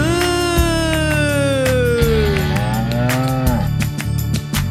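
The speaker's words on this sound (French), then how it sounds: "Elle fait meuh" A cartoon cow in a French children's song gives a long, drawn-out moo that slides downward, followed by a second rising and falling moo, loud and close over a light musical backing.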